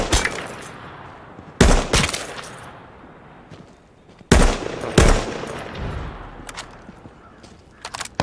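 Gunfire in the PS4 game H1Z1: sharp bursts of automatic shots in several clusters with quieter gaps between, loud and close, with faint background noise.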